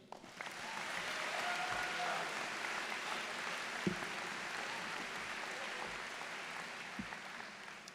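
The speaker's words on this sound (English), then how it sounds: "Let's take a moment to give yourselves a round of applause for this incredible achievement" A graduation crowd for the Marblehead High School class of 2025 applauds in a large space, with a steady, dense wash of clapping that swells and then holds for several seconds.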